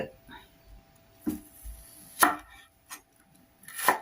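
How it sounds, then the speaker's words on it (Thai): Shallots being chopped with a knife on a board in a Thai home kitchen, a few sharp, separate cuts spaced over several seconds in an otherwise quiet room. "อันนี้ก็เป็นหัวหอม หั่น หั่นหอมเพื่อสิเอาไปตำนะจ้ะ"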